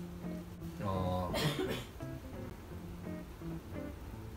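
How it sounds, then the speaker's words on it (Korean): A short burst of coughing, a couple of harsh hacks close up, over a soft background hum. "신라면을 맛있게 먹으면서 기침을 하는 거예요."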